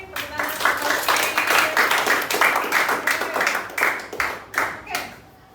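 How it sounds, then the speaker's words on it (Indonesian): Students in a classroom clapping for a classmate; a small group claps in loose bursts with a rhythmic, slightly uneven pulse, fading near the end. "Tepuk tangan untuk Kafir."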